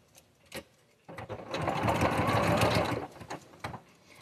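Close up, a sewing machine runs in a brief rapid burst of stitching in one spot on quilt fabric, with quiet pauses and faint taps around it.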